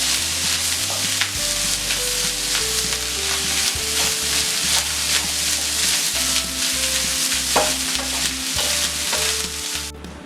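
Chicken schezwan rice with green onion is tossed and stir-fried in a hot pan, a loud constant sizzle broken by rhythmic scraping strokes, close up over a low hum of music.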